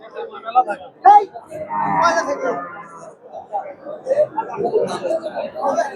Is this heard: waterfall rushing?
no